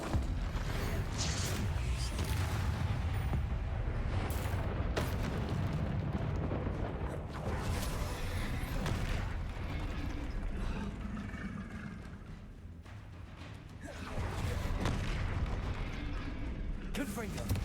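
Spell blasts and explosions from the video game Hogwarts Legacy rumble in a dense, continuous barrage of booms and crackles, with a brief lull near the end before the onslaught resumes.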